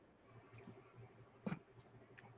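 Sparse keyboard clicks, a few separate soft taps with one louder cluster midway, faint against a low background hum.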